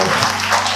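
A brief burst of church audience clapping during a French-language worship service, heard as steady close clapping for under a second, with a low tonal hum beneath it.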